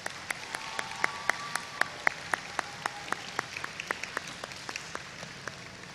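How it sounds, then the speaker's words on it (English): Audience applause at a Space Camp graduation ceremony: crisp, fairly sparse claps in a steady rhythm lasting throughout, with a faint sustained tone underneath and no talking. "So let's give them a big round of applause."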